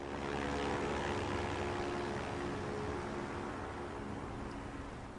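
Airplane engine in a Batman parody, a steady, loud propeller-like drone with rushing noise that holds evenly throughout and fades slightly at the end.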